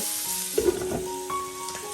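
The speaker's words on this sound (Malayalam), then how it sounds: "ആ നെയ്യിലോട്ട് നമ്മൾ കട്ട് ചെയ്ത് വെച്ചിട്ടുള്ള സവാള ആദ്യം ചേർത്ത് കൊടുക്കാം" Chopped onions, salted, hitting hot ghee in a pan, a steady close sizzle with a brief stir or scrape partway through, no voices.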